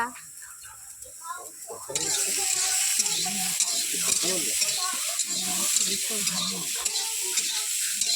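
Eggs stirred in a cooking pot, with steady frying sizzle and scraping stir strokes that grow louder after the first two seconds, running continuously under faint background voices.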